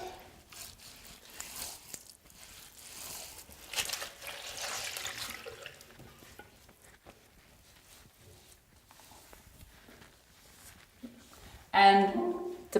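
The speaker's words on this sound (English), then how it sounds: "I wet my face cloth just to give my face another wash of clean water." A face cloth is wetted under running tap water at a bathroom sink, a faint trickle beneath a person talking, then a short, louder splash of water at the very end.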